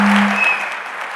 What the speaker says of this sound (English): How about a round of applause for our commercial space panel?